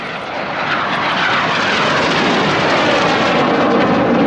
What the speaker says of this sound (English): The pilots put full power on the aircraft, pulling 6G.